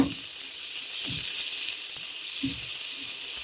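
Tomatoes hitting hot oil in a pan for kinamatisang dilis, a steady bright sizzle and hiss running throughout with a few soft low thumps as pieces drop in.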